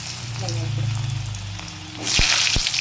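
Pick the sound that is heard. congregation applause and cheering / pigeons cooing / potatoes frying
potatoes frying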